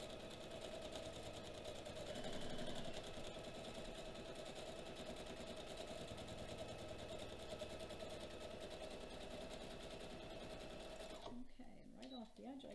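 A sewing machine runs in a steady, fast mechanical whir as it stitches a decorative pillow case, continuous at close range with a brief pause and a few handling clicks near the end.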